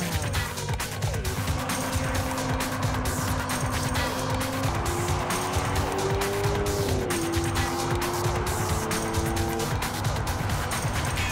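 A Lamborghini Aventador LP 750-4 SV laps the Montmeló circuit near Barcelona, its engine note holding a steady, loud drone with rising and falling pitch as it shifts, tires faintly scrubbing over a continuous roar.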